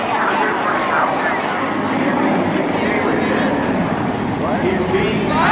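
A P-51 Mustang with a Rolls-Royce-design V12 engine of 1,400 horsepower flies past at the 2007 NAS Oceana airshow, a loud, steady engine roar with a broad rumbling drone throughout.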